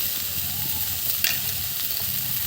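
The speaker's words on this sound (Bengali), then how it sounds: "এইখানে একটু রসুন, কাঁচা লঙ্কা, পেঁয়াজ আর টমেটোটা হালকা করে ভেজে নিচ্ছি" Steady, close sizzling of garlic, green chilli, onion and tomato frying in a pan, with a faint clink of stirring partway through.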